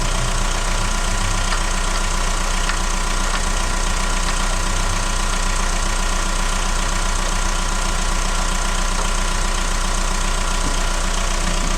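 A Citroën C5 2.0 HDI diesel engine idles on its first start after a turbo replacement, a loud, steady knocking clatter with an even rhythm throughout, no voices.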